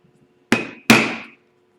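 Two sharp metal hammer strikes drive a leather hole punch, each a loud crack with a short ringing tail, spaced about a third of a second apart in an otherwise quiet workshop.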